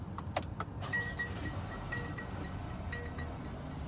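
A car is stopped and started again: a few sharp clicks and key-like jingles at the start, then a steady low engine rumble running on its own with a faint whine.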